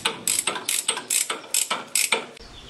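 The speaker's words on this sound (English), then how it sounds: "I've built myself a special tool that goes on them. And with that, I can undo the nut and remove it." Repeated ratcheting of a tool undoing a stiff halfshaft nut on a Nuffield/Leyland tractor axle, about ten sharp, evenly spaced clicking strokes, close and clear with no talking.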